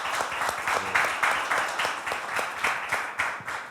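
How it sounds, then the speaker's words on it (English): Audience applause at a music-industry talk about DJs and producers, a steady patter of many hands clapping at moderate distance with a few rhythmic surges, no voices over it. "We need applause for that."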